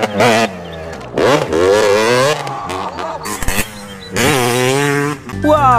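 A toy motocross motorcycle gives off a whining, revving engine sound in loud, close bursts. The pitch sweeps up and down between short pauses.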